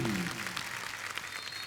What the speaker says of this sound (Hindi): कॉन्फिडेंस के लिए तो तालियां बनती हैं।